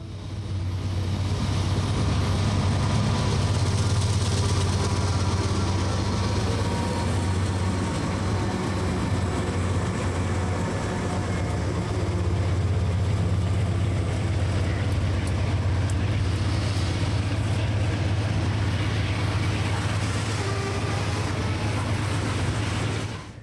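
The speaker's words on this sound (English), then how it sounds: "a coal train arriving at Ravenna Yard with 2 GE AC4400s and a GP40 mother and GP35 road slug set for power" A CSX coal train led by two GE AC4400 locomotives with a GP40 mother and GP35 road slug set rolls into Ravenna Yard in eastern Kentucky, a steady loud diesel rumble and rail noise sustained throughout.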